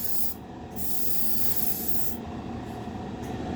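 A spray gun hisses steadily up close, spraying paint on a 1932 Ford roadster, a continuous airy rush broken by a brief pause near the start.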